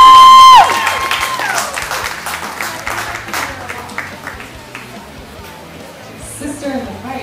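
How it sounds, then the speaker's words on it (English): After a brief tone at the start, a crowd at a toast applauds with scattered clapping and light cheering, moderately loud and thinning out toward the end. "Please give a big round of applause for our sister in the fight, Kristen Albair."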